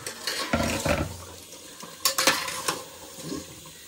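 Meat being stirred and sautéed in a pan, heard as scraping and clinking of a utensil against the pan in short bursts over a soft sizzle, with no talk.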